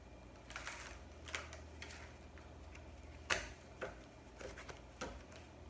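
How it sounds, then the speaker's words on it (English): Tarot cards being shuffled by hand during a reading, heard as a quiet series of soft riffling clicks and taps at close range, with no talking over it. "having trouble shuffling cards for you today"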